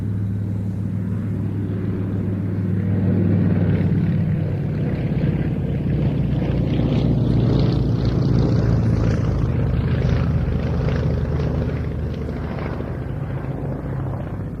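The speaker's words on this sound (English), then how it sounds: "Peter Kuipers, and it's, by my reckoning, the first time we've had this aircraft in the Duxford flying programme for about 40 years." A Beechcraft Staggerwing biplane flies past at the Duxford air display, its propeller engine giving a steady droning roar that swells and fades as it passes at middle distance, with no talk over it.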